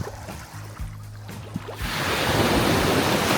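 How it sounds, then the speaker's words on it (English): Ocean waves roll onto Blue Waters Beach in Antigua. Faint lapping water and small splashes build into a loud, close rush of breaking surf that keeps hissing to the end. "You see the water coming in?"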